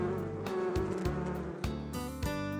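A buzzy, droning hum like bees that rises and falls in pitch in short stepped bursts, fairly close and continuous, with no voices.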